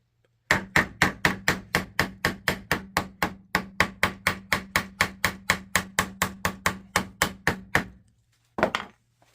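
Hammer peening metal over the leather insert of a pre-1900 golf club: about thirty-five sharp, evenly spaced taps struck in a steady fast rhythm, close and crisp, then a pause and one last tap.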